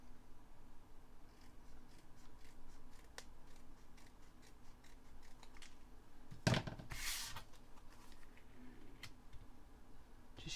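Scissors snip through scrapbooking cardstock, trimming a small sliver off a card for a pocket page layout; one short crisp cut stands out above a quiet room.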